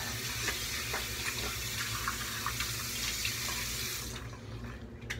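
Tap water runs steadily into a sink and splashes as hands wet a face before a straight razor shave, close and continuous, then cutting off near the end.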